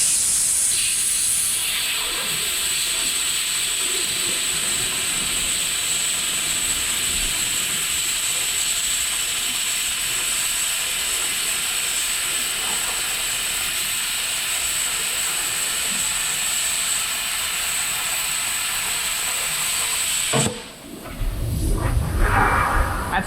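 An ESAB 230V plasma cutter cuts straight across 16 mm steel plate, giving a loud, unbroken, rushing hiss for about twenty seconds before the arc stops and the sound abruptly changes.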